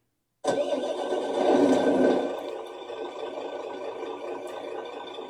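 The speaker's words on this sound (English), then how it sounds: "We're going to start up the engine now." A small diesel engine in a radio-controlled Ford F450 dually plow truck model cranks and catches abruptly, surges briefly louder, then settles into a steady, buzzy idle with no talking.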